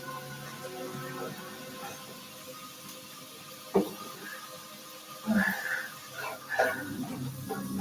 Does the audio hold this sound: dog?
yes